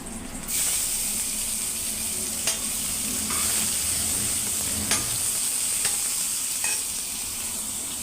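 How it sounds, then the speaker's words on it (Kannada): Onions fry in a hot pan with a steady bright sizzle and hiss, broken by a few sharp clicks of stirring. No one speaks. "ಉಳ್ಳಾಗಡ್ಡಿ ಹಾಕ್ತೀನಿ ಫಸ್ಟ್."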